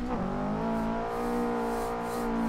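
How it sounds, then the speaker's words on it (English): A Subaru rear-wheel-drive street drift car on a dirt rally stage roars loudly at high revs, holding a steady engine drone with a brief dip near the start. "They came to watch a Subaru rear-wheel drive rip through"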